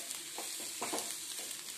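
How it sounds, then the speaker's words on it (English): Chili powder stirred as it fries in an iron kadai over high flame, a steady close sizzle with soft scraping strokes recurring every half second or so. "And stir nicely. It is iron kadai."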